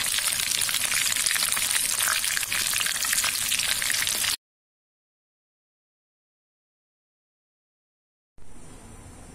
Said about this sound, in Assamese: এইটো মই প্ৰায় ৰঙচুৱা কৰি যাবলৈ ফ্ৰাই কৰিম।